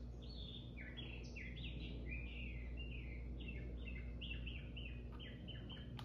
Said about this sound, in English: Can y'all hear those birds?